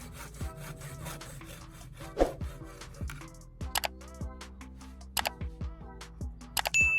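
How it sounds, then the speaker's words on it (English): A hacksaw cuts through PVC pipe in a series of quick, rasping back-and-forth strokes, close up and fairly quiet, with a few sharp clicks toward the end. "I'll use a hacksaw to carefully cut the PVC pipe at the marked spot."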